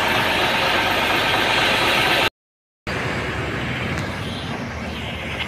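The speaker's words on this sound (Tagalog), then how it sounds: "Ganda na makina nito sir." A truck engine idles with a loud, rough, steady rumble, cut by a brief silent gap before the idling resumes slightly softer.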